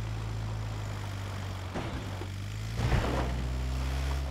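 A droning engine and rotor hum from a helicopter in the PUBG battle royale game plays steadily in the background, moderately quiet, with a couple of brief swells partway through.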